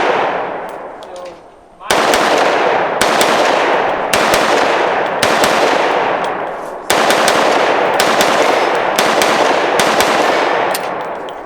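A CMMG Dissent MK57 5.7x28 PDW firing rapidly in several long automatic bursts, loud and close, each burst a fast rattling roar separated by brief pauses.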